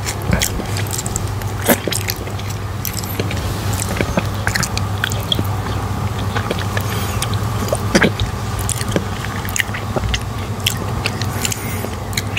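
Close, steady mouth sounds of licking and eating a chocolate lollipop with milk: continuous wet smacks, clicks and slurps run throughout without talking.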